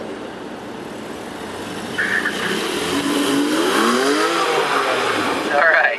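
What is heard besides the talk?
rear-wheel drive Porsche accelerating in a turn, rear tires spinning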